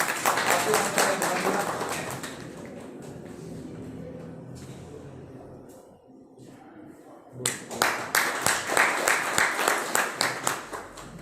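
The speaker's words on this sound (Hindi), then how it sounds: "गुरुदेव के लिए ताली बजवाना चाहता हूँ" Loud applause from an audience at a network marketing event fades into a quieter murmur, then a fresh burst of rhythmic clapping swells up and continues to the end.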